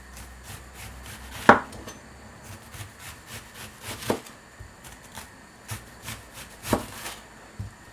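Knife chopping onion on a cutting board while cooking a Guyanese saltfish dish: sparse, irregular soft taps with a few sharper knocks, close and fairly quiet, with no talking.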